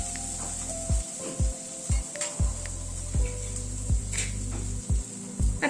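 Green pea paste sizzles softly in hot oil as a spatula stirs it, making regular scraping knocks against the pan over a continuous low hiss.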